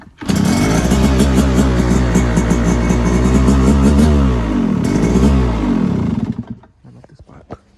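A motorcycle that has not been ridden for some time catches and runs with a loud close engine note, revving up and down in rough uneven surges before it cuts out and leaves near silence.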